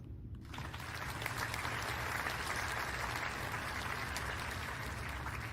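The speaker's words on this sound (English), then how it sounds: "Please welcome him with a big round of applause." Clapping breaks out at an education symposium and builds into steady audience applause, even and continuous after a brief quiet start.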